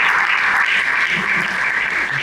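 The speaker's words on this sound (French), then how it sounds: "Est-ce qu'on peut acclamer le Seigneur?" A congregation at a funeral service bursts into loud, continuous applause, dense and sustained from start to finish with no voices standing out.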